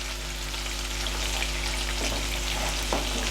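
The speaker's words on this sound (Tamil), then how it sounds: "பார்த்தீங்களா, பச்சை மிளகாய் அப்படி டக்குன்னு பொரிஞ்சிச்சு" Green chillies fry in hot oil for a fish curry, a steady sizzle and crackle with a few sharper pops near the end, close and moderately loud.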